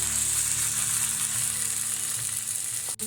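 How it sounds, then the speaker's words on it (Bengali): A spoonful of ghee sizzles steadily in a pan of Bengali banana flower curry (mochar ghonto), a close, continuous crackling hiss with a brief clatter near the end. "1 চামচ ঘি দিয়ে দিচ্ছি।"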